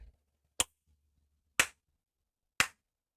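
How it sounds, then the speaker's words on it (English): Three sharp, isolated hand claps spaced about a second apart sync the start of a podcast recording in an otherwise quiet room. "It's the clap we need right here"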